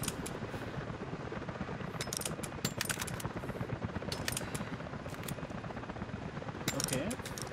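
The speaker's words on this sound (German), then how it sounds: "Hört sich nicht gut an, ist auf jeden Fall ein Heli, was jetzt kommt." A helicopter approaches in Rise of the Tomb Raider, a steady rotor drone running under rapid bursts of game gunfire and mechanical clatter throughout.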